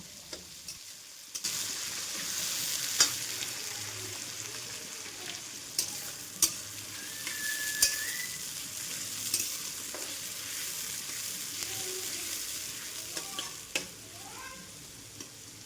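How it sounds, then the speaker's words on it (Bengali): Chopped onion sizzles in oil while being stirred, a steady frying hiss broken by repeated scraping strokes and sharp clicks of a utensil against the pan, close and moderately loud with no speech. "এই পেঁয়াজ কুচিটা নরম হয়ে আসা পর্যন্ত এই পেঁয়াজটাকে একটু নাড়াচাড়া করে নেব"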